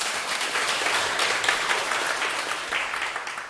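Audience at a Buddhist monk's talk applauding, a dense, continuous round of hand clapping that holds steady for a few seconds and tails off slightly at the end.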